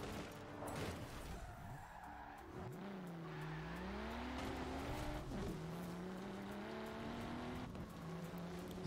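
Car driving in a video game, engine tone rising and falling as it revs and shifts, with tire squeals and skids along the way and no talk over it.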